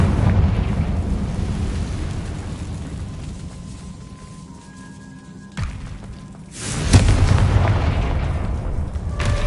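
A Confringo fire spell detonates in Hogwarts Legacy, a deep booming blast that rumbles and fades, followed a moment later by a second sharp crack and rolling explosion, loud and close with no talking.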